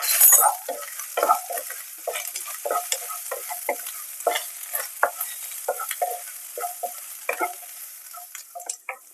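Chilli powder, pepper and garam masala are stirred in a pan for a Kannur-style quail egg cutlet masala, giving a close, steady run of short scraping strokes against the pan with no voices.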